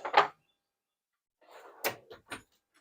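A tool drawer in a toolbox clatters open with a short bump, then slides and knocks twice more after a pause, close and fairly quiet.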